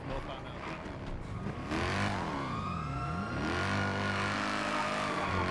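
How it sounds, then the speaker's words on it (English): A black sports car in GTA V takes off, its engine revving hard with rising and falling pitch as it accelerates away, loud and close throughout. "He's getting into a black and color sports vehicle. Taking off"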